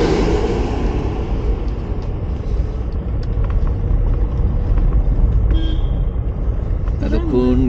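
A car runs downhill in first gear on a steep, winding mountain road, its engine a close, steady low rumble throughout with a few faint knocks and a brief tonal warble near the end.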